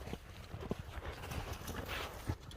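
A racehorse at a horse race in Nookat, Kyrgyzstan, moves with irregular clip-clopping hoofbeats over a busy, moderately loud outdoor background.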